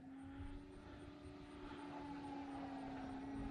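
An E-flite T-28 RC model airplane flies overhead after crash repairs, its electric motor giving a steady, moderately distant whine with a faint high tone above it and no talk.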